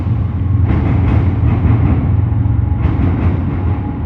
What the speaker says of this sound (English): hopefully you can hear us from the trains